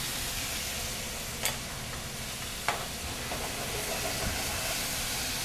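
Artichokes frying in hot oil in a restaurant kitchen, a steady close hiss and sizzle with a couple of sharp clinks.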